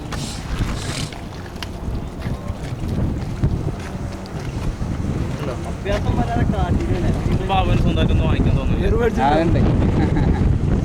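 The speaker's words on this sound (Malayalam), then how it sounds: "ആ ഒരു ബോട്ട് പോകുമ്പോഴാണ് എങ്ങനെ ചാടി ചാടി പോണത്" A boat bounces over waves, with wind buffeting the microphone, a continuous engine and water rush, and thumping slaps on the hull as a voice speaks over the noise.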